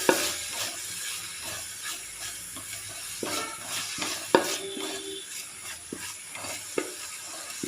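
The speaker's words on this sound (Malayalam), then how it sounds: "ഒരു ടീസ്പൂൺ കൂടെ സൺഫ്ലവർ ഓയിലിൻ്റെ കൂടെ നെയ്യും കൂടെ ഒഴിച്ചു കൊടുക്കാം വഴറ്റി കൊടുക്കാം" Onions cook in ghee and sunflower oil for tomato rice, a soft sizzle in the pan under repeated scraping stirs and a few sharp utensil knocks against the pot, fairly close and without talk.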